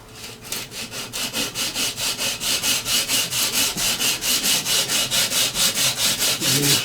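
Wood being sanded by hand in long, steady back-and-forth strokes, a loud rhythmic rasping that repeats about three times a second, close up with no voices.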